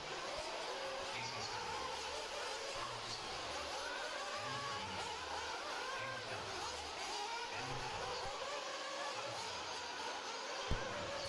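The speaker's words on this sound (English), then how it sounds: "for the 40-plus Nitro Buggy H main" Several RC nitro buggies racing in a 40-plus main event at an outdoor track, their high buzzing engines blending into a continuous rising and falling whine with periodic lower pulses as cars pass, steady and moderately distant.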